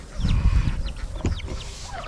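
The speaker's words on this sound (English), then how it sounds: "there's Tesla and her chicks" A hen with her half-grown chicks clucks close by, with repeated low clucks and several high chick peeps over about two seconds and no talking.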